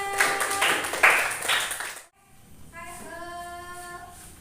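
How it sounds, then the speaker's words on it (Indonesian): A classroom claps for a student group, about two seconds of dense, fairly loud applause that cuts off sharply, followed by quieter sounds. "Oke, tepuk tangan untuk kelompok 2"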